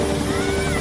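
Helicopter flying over a flooded area, a steady droning rotor and engine hum with a tonal whine, continuous and fairly loud throughout the short moment with no pauses.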